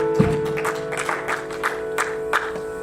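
A church congregation applauding during a worship service, with rhythmic bursts of clapping over sustained background music.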